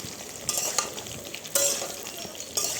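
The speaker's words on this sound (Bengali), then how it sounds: "তো চলো আমি ঢেলে ভালো করে নাড়িয়ে চাড়িয়ে নেব।" Cut mango pieces are stirred in hot oil with fennel seeds, a close sizzling hiss broken by several scraping strokes of a spoon through the pan, with no one talking.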